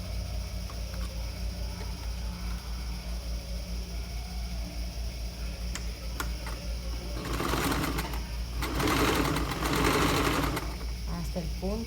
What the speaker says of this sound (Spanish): Aquí y en hombro hacemos lo mismo, cosemos a 1 centímetro.